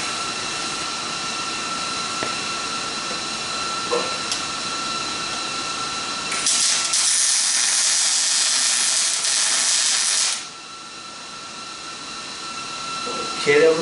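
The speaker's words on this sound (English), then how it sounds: "I hate laying down welding." A welding torch works along a car's rear underside from a lying position, giving a continuous close hiss and crackle that swells louder for a few seconds in the middle before dropping back to a steadier buzz.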